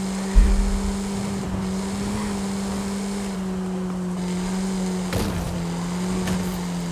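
A car in Forza Horizon 5 holds a steady engine drone through the final corner of a race, one sustained tone with a brief rising swell and no talking.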